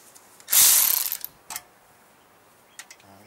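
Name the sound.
ratchet loosening a bolt on a generator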